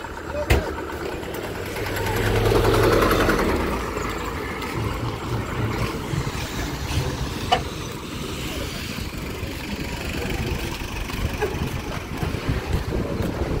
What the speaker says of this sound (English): it's so windy and dusty